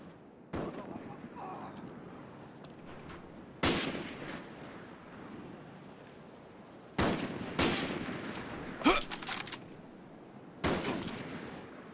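Gunfire in a first-person shooter game, sharp isolated shots spaced a few seconds apart with echoing decays over a low rumbling backdrop, and someone talking between shots.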